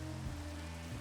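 Rain falling in the video game Minecraft, a steady, soft, continuous patter with a low hum underneath, quiet and unbroken with no talking.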